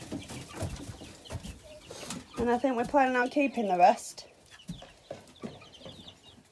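Hens cluck in a short run of rising calls in a shed, coming in under and between a person's nearby talk.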